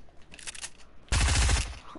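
Gunfire in an Arena Duos shooter match: a faint spatter of distant shots early on, then a loud close burst of rapid automatic fire lasting about half a second, likely from an SMG.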